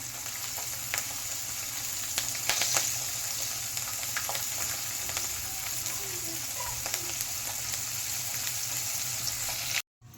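Green chillies fry in hot oil for poha chivda, making a steady, close crackling sizzle with scattered pops that runs until an abrupt cut near the end.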